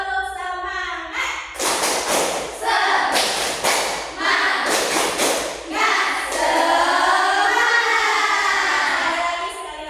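A class of children claps the rhythmic tepuk semangat pattern in loud, tight bursts of clapping, with voices chanting along and rising in between the claps.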